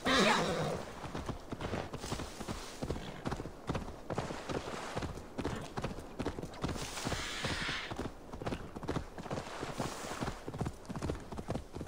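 A horse walks steadily in Assassin's Creed Valhalla, its hooves clip-clopping in a close, even rhythm for the whole stretch, with a whinny near the start.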